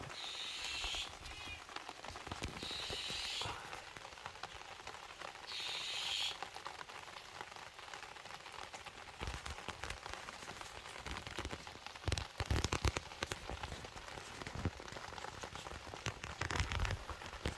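Soft, steady patter of rain falling on surfaces in a forest, fairly faint, with occasional brief chirps of Eurasian jays and small knocks nearby.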